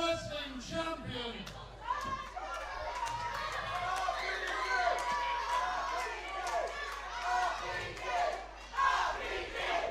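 Wrestling crowd at an Odyssey Pro Wrestling show in Morecambe chanting loudly and continuously, rhythmic massed voices with cheering swells throughout.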